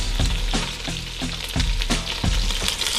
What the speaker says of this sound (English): Go ahead and add those onions right in. Those green peppers.